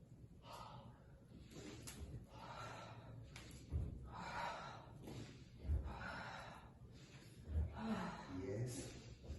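Slow breathing through the nose during a body-awareness session in an artistic residency, with repeated soft sniffs and exhales at a steady rhythm over a low background rumble.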